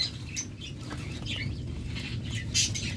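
Caged pure-bloodline lovebirds on a farm flutter and scuffle, with soft wingbeats and pattering mixed with scattered high chirps, fairly close and busy throughout.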